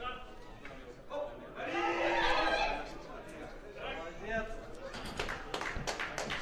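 Sparse, unconvinced applause at a powerlifting competition, the IPC European Open Championships in Eger, with a few scattered claps from a moderately distant crowd mixed with chatter and commentary talk.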